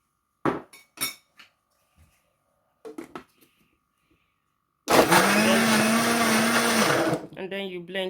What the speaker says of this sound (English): And then you blend. You don't leave your blender running for too long.